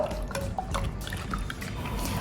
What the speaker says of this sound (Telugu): మజ్జిగలో యాడ్ చేస్తున్న నీళ్ళు చల్లనీళ్ళు